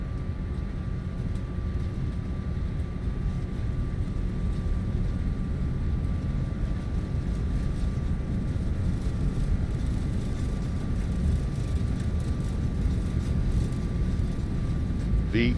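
Airbus A350 engines roar on the takeoff roll in X-Plane 12, a steady loud low rumble with a faint whine above it, continuous and unchanging.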